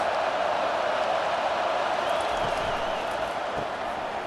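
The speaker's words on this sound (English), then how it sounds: "This crowd trying to make life miserable for this offense." Stadium crowd in a college football video game, a continuous broad roar of many voices at moderate level, with no clear talk over it.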